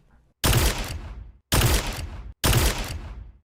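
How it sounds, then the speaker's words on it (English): Three overlaid gunshot sounds from the Vestian Dynasty and Ace of Spades in Destiny 2 fire in sequence, each a loud, sharp crack with a short decaying tail, evenly spaced with brief silences between them. "Now let's play both over each other."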